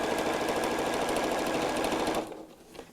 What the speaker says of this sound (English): this foam is very easy to actually sew through.